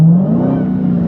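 A Dodge Hellcat's engine roars loudly and close, its deep tone climbing steadily as it accelerates hard, with no talk over it.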